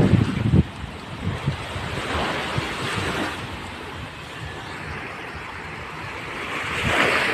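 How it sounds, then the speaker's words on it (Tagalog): Sea surf rolling in on an afternoon shoreline, a steady broadband wash with gusts of wind buffeting the microphone, swelling louder near the end, with no talking. "Maganda na po yung dagat na hapon na."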